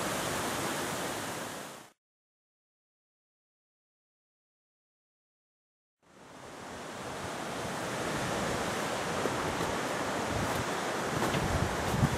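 Steady roaring rush of falling water at Mill Creek Falls in a gorge in Giles County, Virginia, broad and loud, cut off by about four seconds of dead silence before the roar resumes.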